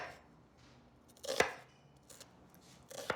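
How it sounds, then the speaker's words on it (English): A knife chops red onion on a cutting board for a black-eyed pea salad, giving a few sharp, separate strokes against a quiet kitchen background, with the loudest chop near the middle. "I'm just gonna finish cutting my onion"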